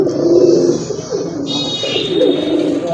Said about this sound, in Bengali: খুব ভালো ডাকে কবুতর